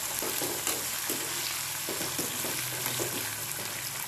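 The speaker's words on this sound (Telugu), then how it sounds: "దూరగా వేగాక నెక్స్ట్ పచ్చిమిర్చి, ఇంకా ఎండుమిర్చి, కరివేపాకు వేసుకొని వేయించుకోవాలి." Green chillies, dried red chillies and curry leaves fry in hot oil as a tempering, producing a steady, close, dense sizzle with occasional stirring scrapes and no voices.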